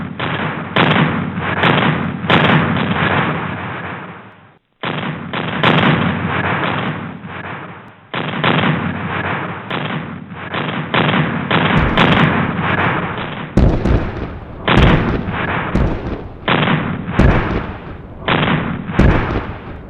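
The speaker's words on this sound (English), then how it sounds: "The guns of the divisional artillery were joined by rocket fire." A barrage of German divisional artillery and rocket fire from the 24th Panzer Division in June 1942: dense, relentless rounds of booming thuds and sharp bangs, with a brief gap before the firing resumes.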